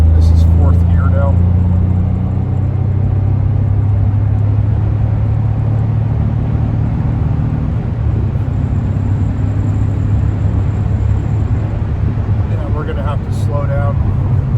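A 1989 Maserati 430 with a five-speed gearbox accelerates in fourth gear, heard from inside the cabin as a loud, steady low engine drone with occasional voices over it.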